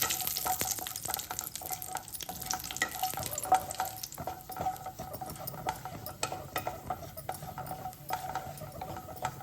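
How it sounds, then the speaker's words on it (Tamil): Cashew nuts roast in ghee in a pan for aval laddu, a soft, steady sizzle with busy crackles and rapid stirring scrapes throughout, close and fairly quiet, with no talk. "முந்திரி பருப்பை வறுத்து எடுத்துக்கலாம்"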